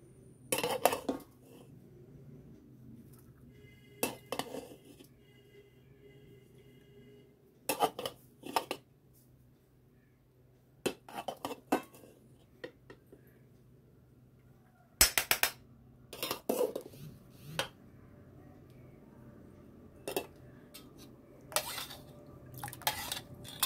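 Dishes and a spoon clink in scattered bursts as rice is served at a home meal, sharp close clatters separated by quiet gaps, with no talking.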